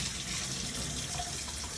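Tap water runs steadily to rinse dust out of a filter during Cerec milling unit maintenance, a continuous close hiss with no talking.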